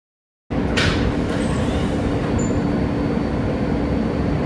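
An MTA R160A subway shuttle train rumbles steadily along the tracks, a loud continuous roar with faint high squeals and hiss, no voices.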